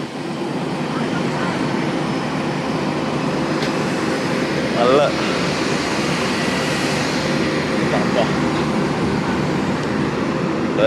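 A medium-sized passenger aircraft on the airport apron produces a steady, droning engine hum that fills the background continuously, while a person talks nearby over it.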